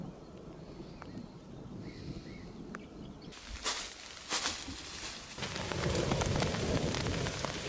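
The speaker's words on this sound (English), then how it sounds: "The thunderstorm is right above me." Heavy thunderstorm rain drums steadily on a military shelter outdoors, building from a lighter patter to a dense, loud downpour with occasional louder hits close by.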